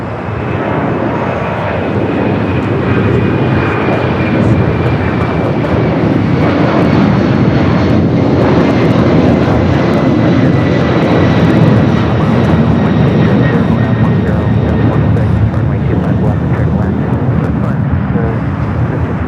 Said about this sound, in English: We just don't see too many Delta 767s taking off here on the south side.